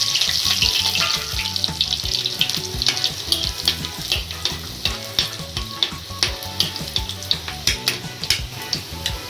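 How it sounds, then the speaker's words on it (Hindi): Chopped garlic cloves and cumin fry in hot mustard oil in a pan for a Rajasthani guar bean and kachri curry, giving a close, steady sizzle broken by regular scraping and tapping from stirring. "थोड़े कटे हुए लहसुन की कलियाँ हैं,"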